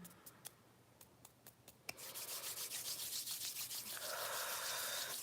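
Hands tap sharply a few times, then rub together in a brisk, steady, rhythmic swishing that grows louder and continues alone, close and distinct.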